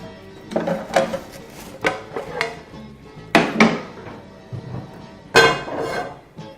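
A pan is lifted out and handled on a kitchen stove, giving several distinct metallic clanks and knocks spread unevenly through the moment, fairly close and moderately loud, with no talking.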